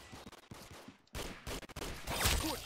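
Gunfire in the Roblox game Arsenal: a fast, loud volley of shots in clipped bursts, close and dense, with a brief gap before a final heavier barrage.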